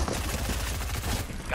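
SMG fire in a video game rattles in rapid bursts, close and loud, filling the short stretch with dense rhythmic shots and a faint voice mixed in.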